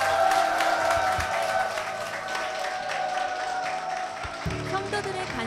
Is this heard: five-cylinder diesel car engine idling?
no